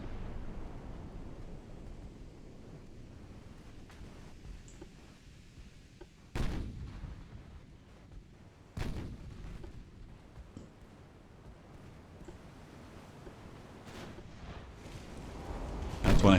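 Naval artillery from battleships in Ultimate Admiral: Dreadnoughts, an 1899 Britain versus France battle: a few distant heavy booms spaced several seconds apart over a low rumbling background, with a louder blast at the end.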